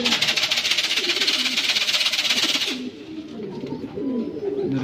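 Racing pigeons arrive at a loft after a fun race at Batangas Port, cooing in soft repeated low calls close by, with a bright high hiss over the first few seconds that then drops away.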